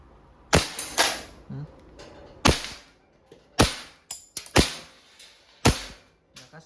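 A WE Hi-Capa 5.1 Type R gas blowback airsoft pistol shoots steel BBs: a string of loud, sharp cracks at irregular spacing, some with brief ringing tails from pellets striking nearby.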